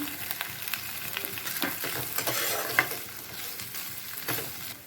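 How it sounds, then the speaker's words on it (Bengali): Onions frying in a pan for Rajasthani gatte ki sabzi, giving a steady close sizzle with repeated scraping stirs throughout and no talk. "পেঁয়াজটা ভাজা ভাজা হয়ে গেলে এর মধ্যে আট চামচের মতো আদা বাটা দিয়ে দেব"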